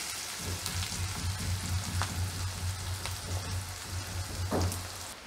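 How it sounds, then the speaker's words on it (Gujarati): Onions frying in oil for a Gujarati green bean curry, a steady close sizzle and crackle with a low rhythmic hum underneath, no voices. "ડુંગળી આપણે આ રીતે તેલમાં થોડીક વાર ચડવા દઈશું થોડો કલર ચેન્જ થાય એનો ત્યાં સુધી"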